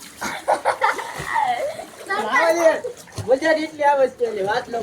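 People splash and thrash in a water tank, sloshing bursts mixed with loud, excited voices talking and shouting close by throughout.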